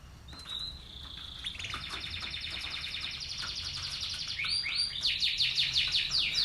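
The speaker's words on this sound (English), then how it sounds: "Can you hear the sounds? Tweeting." Canaries tweet close by in a rapid, continuous stream of bright chirps and trills that build steadily louder, with no talking.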